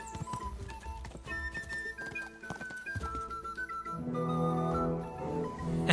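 Hooves of a horse clip-clopping in a rhythmic series under loud, busy background sound, with a brief whinny-like tone and cheering voices, likely at a battle reenactment or staged fight.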